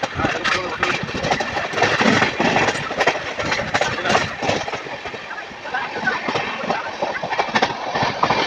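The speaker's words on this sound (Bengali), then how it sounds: "ট্রেন ছেড়ে দিয়ে আবার আটকে দাঁড়িয়েছিল।" A passenger train on a trip in Uttar Pradesh rumbles and rattles steadily from inside the carriage, a dense continuous clatter with voices talking over it.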